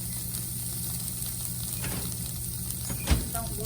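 Calamari olive sizzles under a broiler in a home kitchen as a constant, close hiss and crackle, with one louder pop near the end.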